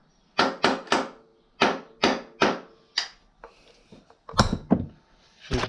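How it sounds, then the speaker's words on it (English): A metal tool taps the shock absorber lock ring on a CR 250 motorcycle: about a dozen sharp, close knocks, first in an even rhythm, then a few softer irregular hits. "Give the lock ring on the shock a couple tappity taps."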